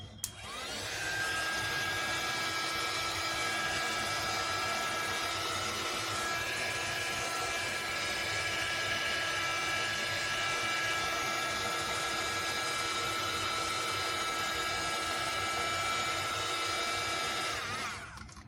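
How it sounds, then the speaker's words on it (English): A heat tool blows steadily to heat-set decoupage colouring, a loud continuous whirring hiss with a faint whine that runs unbroken for the whole stretch before cutting off at the end. "I'll just heat set it now so that we can finish this whole thing up"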